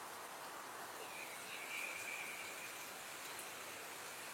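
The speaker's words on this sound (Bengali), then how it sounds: "দর্শক, দেখতে পেয়েছেন আসলে বৃষ্টির কত শব্দ।" Heavy rain falls late at night as a steady, even hiss that is faint and continuous, with no talking.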